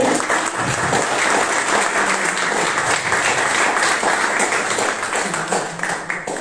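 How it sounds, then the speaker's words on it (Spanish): An audience at a Carnation Revolution commemoration event in Madrid applauds a colleague with steady, dense clapping lasting several seconds at an even level, with no voices over it. "Por favor, levántate y pido un aplauso a mi compañera."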